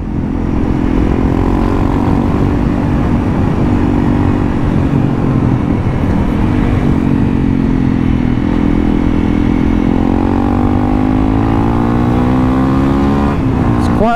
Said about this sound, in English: when the exhaust sounds like this, it makes you want to rip it a little bit more.